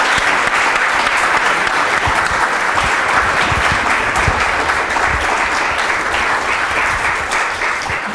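An audience gives sustained, dense applause for writers Rick Bragg and Roy Blount Jr. at a Nashville Writers Circle event, loud and close, with no break for the full length.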